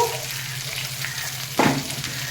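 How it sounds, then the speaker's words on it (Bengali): Curry leaves, dried red chillies and white mustard seeds temper in a little ghee with a low steady sizzle, then a sudden louder crackling burst as they hit the hot fat. "আমি প্রথমে এই কারি পাতা কারি পাতাটা ফোড়ন দিয়ে নেব আর এই শুকনো লঙ্কা কারি পাতা আর ইয়ে সর্ষে সাদা সর্ষে নিয়েছি"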